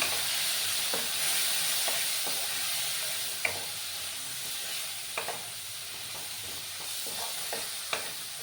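Spice paste of Kashmiri chilli powder, loosened with a little water, sizzles steadily in a pan for a Sylheti flat-bean seed curry, with a few sharp scraping stir strokes rising above the constant close, hissing fry.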